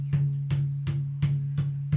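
A mridangam drum struck with a steady repeated da stroke on its left head, six evenly spaced resonant hits ringing into a sustained low tonal hum, close and clear with no talking.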